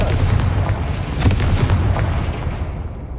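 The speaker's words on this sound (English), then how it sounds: "Confringo!" Confringo spell exploding in Hogwarts Legacy, a loud booming blast with deep rumble and a sharp crack in the middle, then a fading tail.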